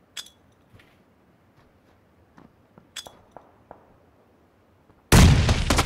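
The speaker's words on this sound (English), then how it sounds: "just if you can throw the nade in there" A grenade goes off in a first-person shooter game, a sudden loud blast after a few faint metallic clinks and taps, the explosion filling the final second.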